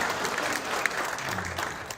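Congregation at an Easter union church service in Dongtan applauding a Hwaseong city councillor, a dense sustained clapping crowd heard fairly close, continuous for the whole stretch.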